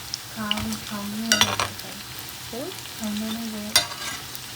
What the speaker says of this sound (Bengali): আজকে পেঁয়াজি ছোট্ট একটু বড় বড় করে দিচ্ছি, অন্য দিন ছোট করে ভাজি, কিন্তু আজকে বড় করে ভাজতেছি